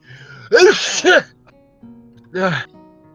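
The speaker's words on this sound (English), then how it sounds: "I have to sneeze" Sneezes from a stuffed-up nose: two quick, loud bursts close together, then a third after a short pause, close to the listener with no other sound around them.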